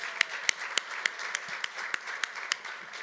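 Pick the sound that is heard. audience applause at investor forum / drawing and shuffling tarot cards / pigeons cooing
audience applause at investor forum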